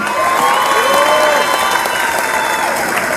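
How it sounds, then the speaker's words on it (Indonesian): Crowd applause mixed with cheering and shouts at an Indian culture festival at Pasar Seni Ancol, loud and continuous across the stretch. "Tepuk tangan untuk kita semua yang hadir di sini."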